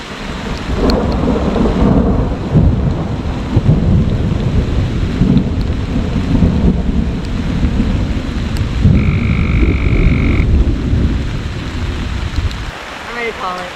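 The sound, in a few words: heavy rain with thunder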